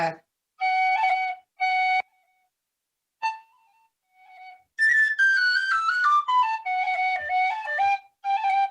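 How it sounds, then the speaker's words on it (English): A tin whistle plays short phrases, then a quick run of ornamented notes with rapid rolls, bright and close, with brief silences between phrases. "This is a beautiful tin whistle."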